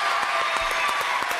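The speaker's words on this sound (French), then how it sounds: "Applaudissements vers vous." Dense studio audience applause after a card trick on a French television show, a loud continuous wash of clapping filling the whole brief moment.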